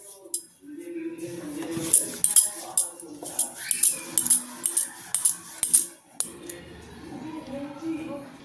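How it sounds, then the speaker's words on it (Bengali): Egg roll dough being rolled out with flour on a board, a series of rhythmic light knocks and clicks from the rolling pin, with a faint voice in the background. "আস্তে আস্তে আমি সবগুলোকে বেলে নেব আমি কিন্তু ময়দা দিয়ে মেলি"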